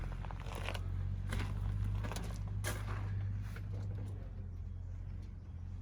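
A turbocharged shop truck at a performance shop idles close by, its steady low engine rumble continuous, with faint rustles and shuffling noises on top.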